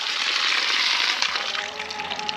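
Steady rushing water flows continuously, a close broadband gush with a little splashing texture throughout.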